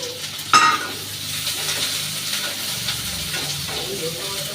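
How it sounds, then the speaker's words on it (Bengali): Sliced onions frying in hot oil in a home kitchen, a steady close sizzle and hiss with a sharp clank of a utensil against the pan near the start, then continued stirring and crackling. "পেঁয়াজটা ভাজা থাকি"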